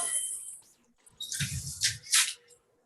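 Water from a touch-free sensor tap in a washroom: after a faint hiss, the flow gushes in two or three short bursts of splashing that then stop. No one speaks.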